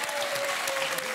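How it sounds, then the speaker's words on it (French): Brief burst of TV studio audience applause on a French dating game show, dense clapping at moderate level under a faint held tone. "On vous applaudit"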